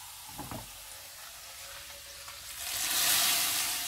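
Hot onion tempering hits a pot of boiling sambar, a soft crackle swelling into a loud, bright sizzle that builds toward the end, with no talking.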